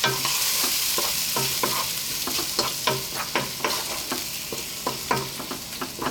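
Grated cheddar being stirred around a hot pan, with a steady sizzle under repeated scraping and stirring strokes at a close, even rhythm, no voices.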